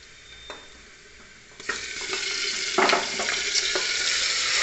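Mutton pieces dropped into a hot pan of oil with onion tempering, a loud sizzle bursting in partway through and then frying steadily with stirring clatter, fairly close, no voices.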